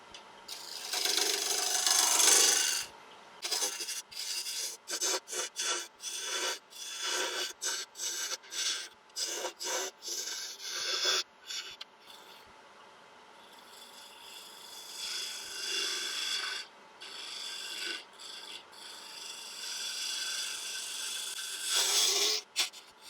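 A 3/8 ball gouge cuts into spinning wood on a lathe while a small snowman is shaped, giving repeated scraping, rasping passes with short pauses between strokes, close and fairly loud, with no speech.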